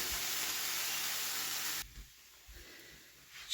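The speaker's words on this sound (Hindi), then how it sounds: "बस अब 1 मिनट ही इसको फ्राई करेंगे।" Chicken masala with onion sizzling in a pan, a steady hiss for almost two seconds that drops suddenly to near quiet with a few faint knocks.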